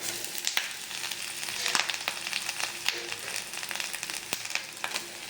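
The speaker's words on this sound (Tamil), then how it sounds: "இனிமேல் பூண்டு வேடிக்க ஆரம்பிக்கிறோம் இந்த தேங்காயை போட்டுவோம்" Garlic and grated coconut frying in a pan for a curry-leaf garlic kara kuzhambu, a steady crackling sizzle with sharp pops and spits throughout, close and fairly loud with no talking.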